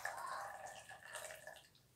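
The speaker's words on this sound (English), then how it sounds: "we're going to pour some boiling water into our concoction over there." Boiling water being poured into a container holding a homemade mixture for a water cycle experiment: a faint, soft trickling and splashing that runs for about two seconds and tapers off at the end.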